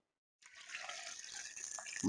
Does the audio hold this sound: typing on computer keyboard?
no